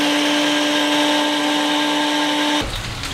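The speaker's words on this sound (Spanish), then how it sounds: "de ahí le vamos a licuar" A blender runs steadily and loudly while mixing salt into a marinade for chicken wings, holding a constant motor whine before cutting off near the end. No one speaks.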